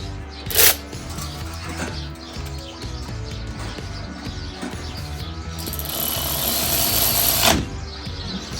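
Power tool running caliper bolts in with a 16mm socket during front brake and rotor work on a Ford F250, a rattling, chattering whir lasting several seconds, with sharp bursts at the start and end.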